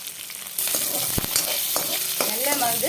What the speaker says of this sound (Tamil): இது எல்லாத்தையுமே சேர்த்துட்டு நம்ம வந்து ஒரு வதக்கு வதக்கிடுவோம்